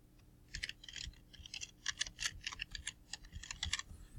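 Fingers typing on a computer keyboard, a quick, close, irregular patter of crisp key clicks running steadily for several seconds over a faint low hum, with no talk.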